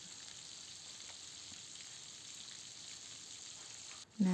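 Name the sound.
battered shrimp deep frying in oil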